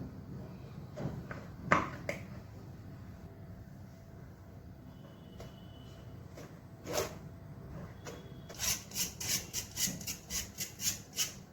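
Batter for an eggless black forest cake is stirred in a bowl, faint scraping at first, then a quick run of rhythmic taps near the end, with no talking.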